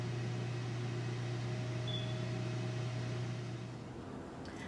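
A Ninja Foodi preheating before biscuits go in, a steady low mechanical hum with fan-like whir that carries on evenly and then eases slightly near the end.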